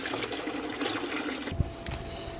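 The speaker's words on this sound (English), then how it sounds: "just basically rinse off the sides" Water runs steadily and close by as it rinses down the plastic sides of an off-grid aquaponic tank, a continuous splashing wash that shifts and thins out partway through.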